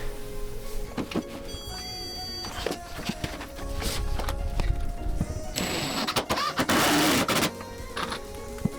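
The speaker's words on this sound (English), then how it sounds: "so we'll go ahead and screw it in here as well" Screws are driven into wall studs during a closet renovation, with a power driver whirring in short bursts between knocks and handling noises, one longer louder run near the end.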